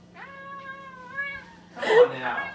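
A cat lets out a drawn-out, wavering meow, followed by a burst of noisier sound, with people speaking nearby.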